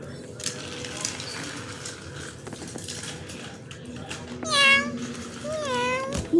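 A voice imitates a cat with two short, rising meows near the end, over faint clinking of dishes and background chatter.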